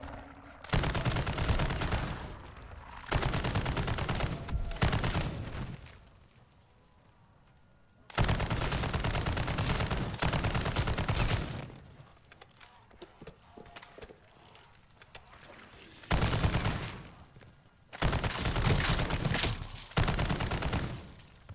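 Sustained automatic fire from a machine gun in Call of Duty Modern Warfare 3 Zombies, coming in several long loud bursts separated by short pauses and quieter reload gaps.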